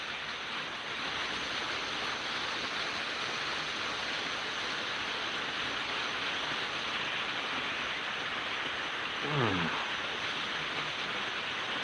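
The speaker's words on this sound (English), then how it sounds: "It's raining now, as you can hear it." Rain falls outside as a steady, even hiss of dense patter that stays constant throughout. A brief faint tonal sweep passes near the end, and no one speaks.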